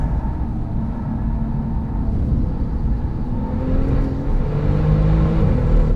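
A Porsche 997 Turbo with a COBB Stage 2 tune and COBB exhaust drones its flat-six steadily and loudly on a track for the whole stretch, with a low rumble, rising revs and a whoosh of rushing wind.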